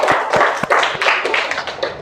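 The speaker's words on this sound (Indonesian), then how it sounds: "Tepuk tangan untuk diri sendiri." A classroom of students clap for themselves, giving a short burst of close, loud, slightly uneven hand claps lasting about two seconds.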